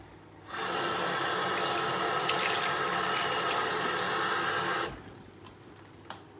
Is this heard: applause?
no